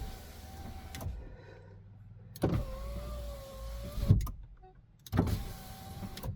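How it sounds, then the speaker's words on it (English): The electric window motor in a 2007 Peugeot Partner 1.6 HDi whirs several times in short runs of one to two seconds, each ending in a clunk as the glass stops. The motor sits close and plays alone. "And we've got a working window."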